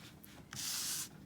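A colored pencil scrapes across card stock while a stamped fairy card is colored in, a soft sustained scratchy rubbing stroke lasting about half a second, close and faint, with no talk.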